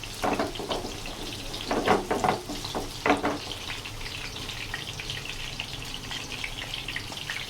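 Beef koftas frying and being swirled in a pan, giving a soft continuous sizzle broken by a few brief scraping, sloshing bursts near the start, fairly quiet and with no voices.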